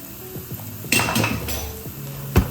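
A utensil stirring flour into short rib seasoning in a pot, with close metallic scrapes and clinks, a brief louder clatter midway and a sharp knock at the end, no talking.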